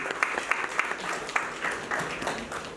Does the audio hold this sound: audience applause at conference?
yes